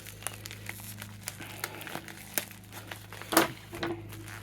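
Cardboard packaging being cut open during an unboxing, with a steady crinkling and scraping texture and a brief louder tearing burst near the end, close by and without talk.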